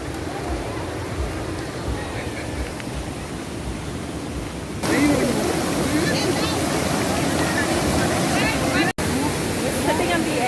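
Strong river current rushes loudly at a waterfall picnic spot near Vandri lake, a continuous broadband roar that grows louder and closer partway through, with splashing on top.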